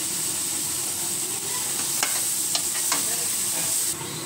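Masala with ginger-garlic paste and garam masala powder being stirred and sautéed in a frying pan for a double beans gravy, a steady close sizzle with a few sharp scrapes of the spoon against the pan.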